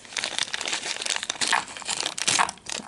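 A small plastic bag is crinkled and handled up close, giving a busy run of sharp rustles and crackles with no speech.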